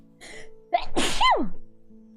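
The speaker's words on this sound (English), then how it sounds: "And then I will sneeze." One person sneezes once, close and loud, with a short breathy build-up followed by a sharp burst that tails off in a voiced, falling sound.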